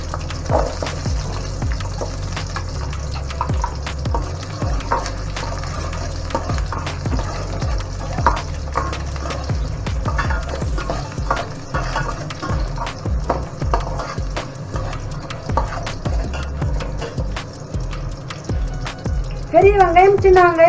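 Small onions and fenugreek seeds fry in hot oil for a fish curry, a busy crackling sizzle with scattered pops that holds steady throughout, rising a little near the end.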